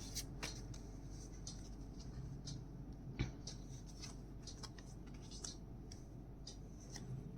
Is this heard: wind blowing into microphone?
no